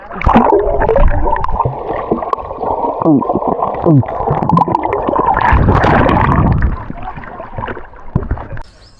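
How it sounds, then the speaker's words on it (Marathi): A camera is held submerged while people swim and bathe, producing loud, muffled underwater rumbling with gurgles, bubbles and swirling tonal sweeps. Indistinct, muffled voices come through. "फर्स्ट टाइम कॅमेरा टाकतोय पाण्यात"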